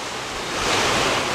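Ocean surf at the Cloud 9 break on Siargao Island rushes in a broad, continuous wash that swells slightly louder partway through, with wind mixed in.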